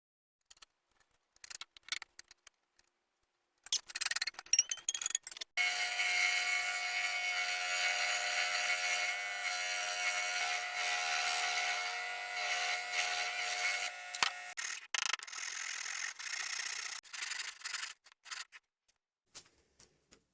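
A steady, buzzing noise of sanding 3/4-inch-thick particle board runs for about ten seconds, preceded by brief scraping and followed by a few shorter passes, fairly quiet and close.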